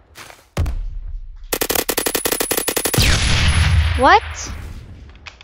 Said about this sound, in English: Somebody killed me with a frag grenade